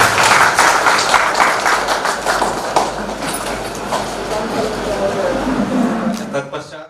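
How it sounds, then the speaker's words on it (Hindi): An audience at a Teachers' Day school event claps hard in a loud, rhythmic burst that slowly thins out, with voices speaking over the applause. "तालियां बजनी चाहिए,"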